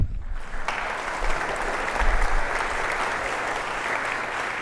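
An audience at a community college opening day gathering breaks into applause, a dense sustained clapping from a large crowd that swells slightly and holds steady.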